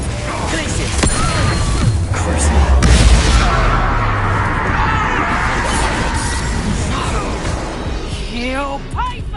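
Glacius ice spell cast in a video game: a loud burst of crackling and shattering ice with a deep boom beneath, swelling then fading over several seconds, with voices and game chatter around it.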